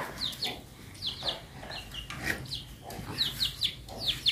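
Chickens on a rural Vietnamese farm cluck repeatedly in short bursts, several birds near and moving about, with no talk over them.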